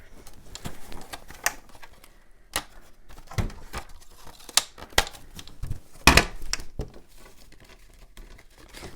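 Paper is cut on a We Are Memory Keepers trim and score board for a junk journal, heard close up as scattered sharp clicks, slides and crinkles with one louder burst near the end, and no talking.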